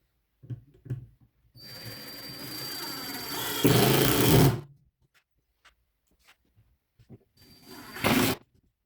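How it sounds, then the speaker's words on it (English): A power drill drives 1 5/8 inch drywall screws into wood in a woodworking shop: one long whirring run that ends in a louder, strained burst, then quiet handling noises, then one more short, loud drive. "I actually will run down one line of screws and then go over to the other side and adjust for square."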